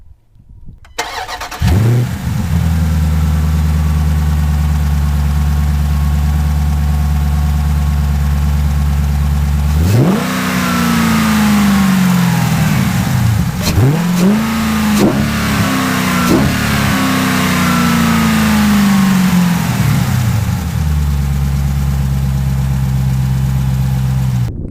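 A 2017 Jeep Grand Cherokee SRT's 6.4-liter Hemi V8 starts up and idles, then is revved hard several times with loud sweeping blips around the middle before settling back to a steady idle, close and alone.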